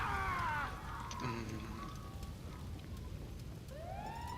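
A wailing emergency siren in the video game GTA 5 near a burning building, rising and falling sweeps that fade in the middle and then start a new upward wail, with a low rumbling background and no talking.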